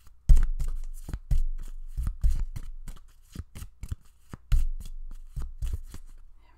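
A deck of tarot cards is shuffled by hand in a series of sharp, close riffles and slaps, irregular bursts with short pauses between, and no talking.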